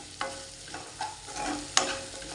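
Small shallots sauté in a hot pan, crackling and sizzling while a spoon stirs them in a few quick scraping, clattering strokes, close and fairly loud with no talk.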